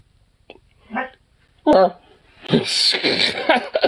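A husky gives a short, nasal honk up close, followed by a burst of sniffly snorting mixed with someone talking.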